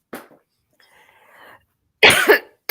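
A person with a bad cold coughs sharply, a short cough near the start and a louder harsh burst of coughing near the end, with quiet breathy sounds between.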